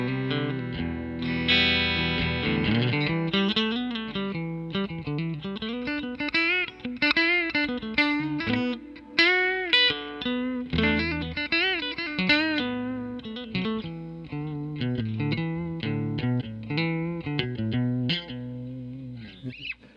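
Electric guitar played through a Fender Super 112 amp on its gain channel with a presence boost, a touch of reverb and reduced bass and mids, giving a distorted, sustained lead line of bent and held notes with no talking.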